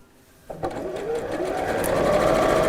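Close, steady whirr of a sewing machine running a quarter-inch seam, starting after a brief quiet moment and building into continuous fast stitching.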